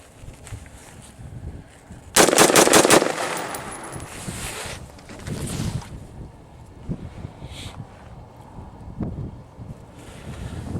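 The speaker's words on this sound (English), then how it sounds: "Now I'm just gonna shoot these as fast as I can" An AR rifle fired rapidly in extreme cold, a short loud burst of quick shots around two seconds in, followed by wind buffeting the microphone and quiet outdoor ambience.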